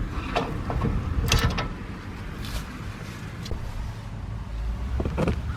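A 7-inch brake drum is worked off an electric trailer brake wheel, giving scattered metallic scrapes and knocks close by over a steady low background hum, with no talking.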